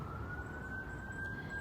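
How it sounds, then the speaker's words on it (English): An emergency vehicle siren sounds outdoors as a faint, steady tone carried at a distance, with brief chirps of birds in the background. "I'm sure you can hear the birds and the siren that's going off."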